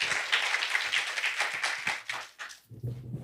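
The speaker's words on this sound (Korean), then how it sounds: "여러분 무대 올라오실 때 큰 박수 부탁드립니다." Audience applause at a digital asset investment forum as a speaker comes on stage, dense clapping that thins out and fades over a few seconds before a low voice begins.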